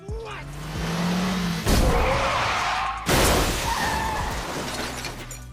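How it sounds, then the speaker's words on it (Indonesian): A car skids and rams into another car on a street, loud and close, with sharp crash impacts near the two- and three-second marks over a continuous engine roar and screeching tires. "langsung menabrak mobil yang dikendarai oleh"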